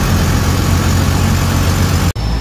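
A bus engine idles loud and close in a continuous low rumble that barely changes, then cuts out for a moment near the end.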